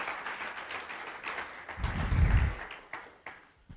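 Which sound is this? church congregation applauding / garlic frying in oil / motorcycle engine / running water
church congregation applauding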